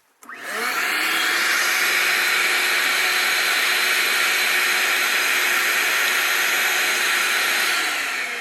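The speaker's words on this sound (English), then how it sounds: "another method is turn the vacuum on and off" A car detailing vacuum cleaning a car interior starts up abruptly and then runs as a loud, steady whine with airy hiss, without a break until the end.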